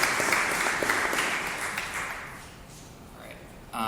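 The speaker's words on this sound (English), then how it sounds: "can we get a round of applause for our panelists?" Audience applause for panelists at a family office conference, fairly loud at first and tapering off over a few seconds.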